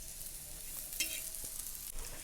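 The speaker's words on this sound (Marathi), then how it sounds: "अजून असंच मी दोन्ही साईडनं छान असं तेलावर भाजून घेणार आहे" Okra fries in oil on a black iron griddle, a soft sizzle with occasional stirring scrapes and clinks, fairly quiet and steady.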